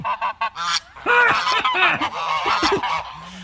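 Several loud goose honks, a quick run of short calls followed by longer, harsh, rising-and-falling honks, close by and with no voices.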